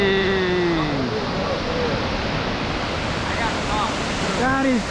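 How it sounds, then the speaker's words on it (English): A big waterfall pours down into a cave opening in a forest, a loud, steady roar of rushing water heard close, with a few faint whistle-like tones drifting over it. "And this waterfall just goes down. Dude, that's so much water."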